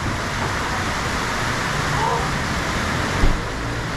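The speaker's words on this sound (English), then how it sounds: "while we were in Uvita in our last couple of days, we definitely experienced some torrential rain" Torrential rainy-season downpour in Uvita, Costa Rica, heard from inside a moving car, a dense, loud, steady hiss of rain with road rumble and a brief thump near the end.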